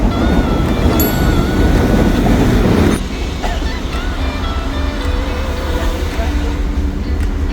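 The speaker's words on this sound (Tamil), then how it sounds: "ட்ரெயின் வருது." A train rumbles loudly into a station in Sri Lanka, a broad heavy roar that drops off sharply partway through, leaving a steadier lower rumble with faint squeals.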